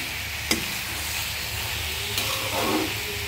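Maskalai bori with winter vegetables, spring onion and tomato stir-frying in a little mustard oil, a steady close sizzle and hiss with a few brief scraping stirs of the spatula, no talking.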